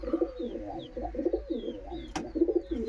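Domestic pigeons coo close by in a home loft, a repeated low throaty burbling in rhythmic phrases with several overlapping birds and a brief sharp knock midway.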